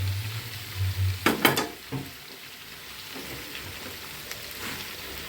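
Red spinach goes into spiced red lentils cooking in a pan, making a short burst of rustling and clatter. A low, gentle sizzle follows.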